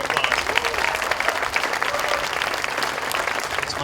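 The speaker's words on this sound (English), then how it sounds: "Please give them a round of applause." Audience applause fills a Special Olympics Arizona Healthy Athletes opening ceremony, steady dense clapping from a crowd sustained throughout at an even, moderately loud level.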